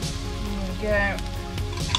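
Fatty sausages sizzle steadily in a frying pan, with a close, continuous crackle and a few faint clinks of the pan.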